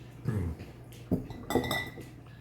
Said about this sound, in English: And into the mason jar we go.